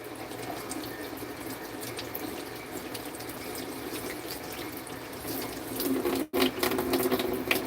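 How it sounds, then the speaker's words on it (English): Tap water running steadily into a sink while food is rinsed for campfire cooking of a Cornish hen, a constant close splashing stream with a brief interruption near the end. "we're gonna rinse everything off"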